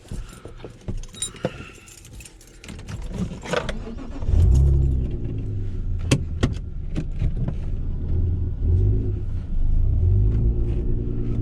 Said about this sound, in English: I forgot to start my car again